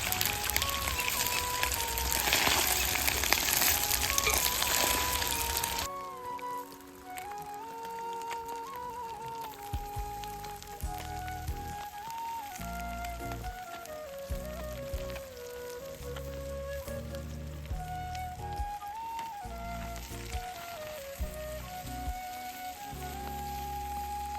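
Pieces of linna fish frying in hot oil give a dense, steady sizzle, loud and close at first, then settling into a quieter crackle as the pan continues cooking.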